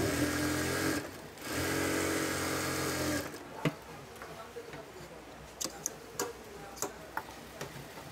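A sewing machine runs in steady dense bursts while stitching an Afghani salwar, then stops, leaving scattered faint ticks and clicks of handling the fabric.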